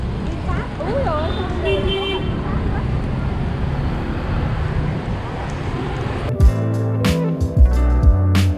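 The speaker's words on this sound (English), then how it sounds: "I see heavy traffic with many motorbikes whizzing by." Heavy street traffic in Hanoi's old quarter, with many motorbikes streaming past under a continuous roar of engines, then sharp horn toots bursting in near the end. A voice speaks over it.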